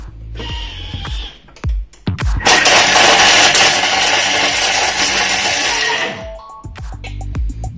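A few clicks and handling clatters, then a food processor roars loudly at speed 8 for about three seconds chopping lemon before winding down to more clattering.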